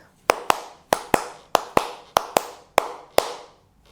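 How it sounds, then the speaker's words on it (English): Hands clap out a guitar strumming rhythm for Phil Collins' In the Air Tonight: ten sharp, close claps in an uneven syncopated pattern, with no voices. "you can put your pick down and just clap it out first"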